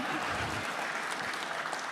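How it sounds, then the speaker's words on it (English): Audience applause at a sports hall of fame induction ceremony, a short burst of dense, steady clapping from a crowd filling the room. "just for that they need a round of applause"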